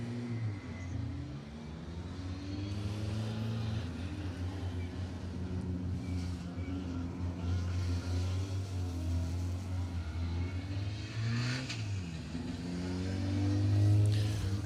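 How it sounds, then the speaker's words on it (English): A Mark II Astra rally car on a circuit rally stage at SMC Stages, its mid-pitched engine droning and revving steadily throughout, swelling louder near the end. "Car 23, the lovely looking Mark II Astra of Neil Jones and Alan Thomas."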